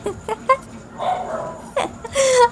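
A female pet dog barks at home at night, giving a few short, sharp barks and yips with brief whimper-like sounds between them, fairly close.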